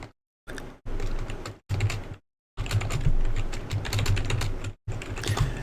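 A passphrase being typed on a computer keyboard while securing an Ubuntu server: rapid, close clattering of keys in several bursts separated by short silent gaps, with no voices.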